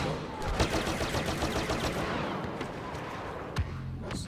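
Blaster gunfire from a Star Wars Battlefront match, a steady run of rapid shots for a few seconds, then a single sharp blast near the end, loud and close.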